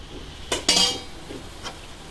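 Stirring bopis with coconut milk in a pan, a few quick metal clinks and scrapes of a utensil against the pan, close and brief, with a faint one after a pause.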